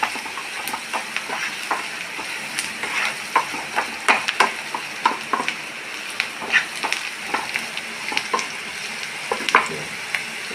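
Oil and seasonings with salt frying in a pan before brinjal goes in, a steady close sizzle broken by frequent short scraping stirs and light taps, continuous for several seconds without any voice.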